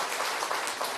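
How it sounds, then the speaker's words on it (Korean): A church congregation applauds during a founding-anniversary Sunday service, giving a steady, dense wash of clapping that fills the room, with no talking over it. "박수 한번 영광 하나님 앞에 올려드리겠습니다."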